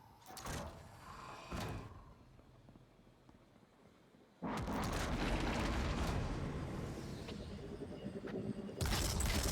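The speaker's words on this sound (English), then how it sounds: "It's called a badass rocket launcher" Rocket launcher blasts in Destiny 2: a couple of short booming bursts early, then a sudden loud roaring explosion that sustains for several seconds and swells again near the end, with no talking.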